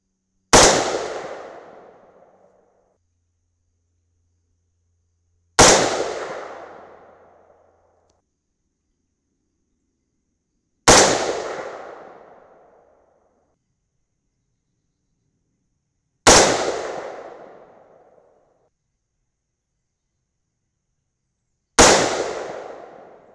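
Five rifle shots from a .308 Winchester firing Sierra GameChanger 165-grain bullets from a cold barrel, each a sharp loud crack with a long decaying echo, spaced about five seconds apart with silence between.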